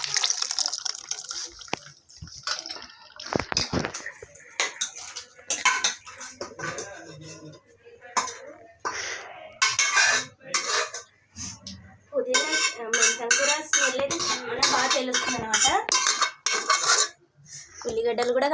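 Bagara rice being shifted from a pressure cooker into another pot, metal cookware and spoons clanking and scraping repeatedly up close, with wet sloshing and brief quiet gaps.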